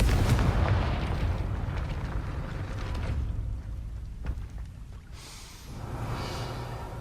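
A Confringo blasting spell fired in Hogwarts Legacy at a gate, a heavy rumbling boom that rolls on with debris-like crackle before dying into a quieter whoosh, with no talking.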